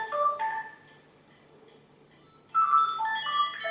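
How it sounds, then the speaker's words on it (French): A home telephone ringing in bursts of bright electronic tones, a pattern at the start, a quiet gap, then ringing again, close and clear with no talking. "le téléphone sonne"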